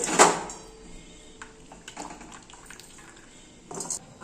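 Water is poured out while cooking a dish of fresh pumpkin stems with poppy seed paste, a brief close splash at the start, then faint drips and clinks before a second short pour.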